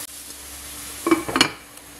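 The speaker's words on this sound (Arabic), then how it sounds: "بعد ما سخن الزيت نزيد له حبه بصل" A large onion drops into hot oil with a little margarine, breaking a steady background hiss with a sudden close burst of crackling sizzle and a few quick scraping stirs.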